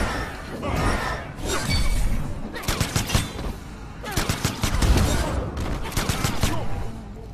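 Rapid bursts of video game gunfire from a Mortal Kombat X tournament match, loud repeated volleys with crashing impacts, under excited commentary.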